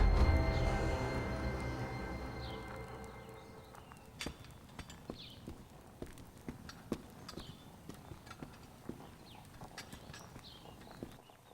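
Horse hooves clip-clop in an unhurried walking rhythm, a string of crisp, moderately close knocks that follow a fading low rumble.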